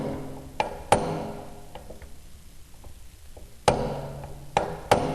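Sharp metallic hammer blows seat a motorcycle wheel bearing, a handful of separate ringing strikes spaced irregularly with quiet gaps between, close by.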